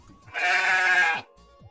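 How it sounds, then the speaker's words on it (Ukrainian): A single sheep gives one clear, close bleat lasting about a second, rising out of near silence and fading away afterward. "Так, правильно, це вівця."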